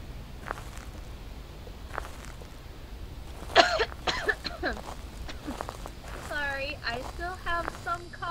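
Coughs and throat clearing come in a few short bursts, close and moderately loud, among light shuffling and casual talk.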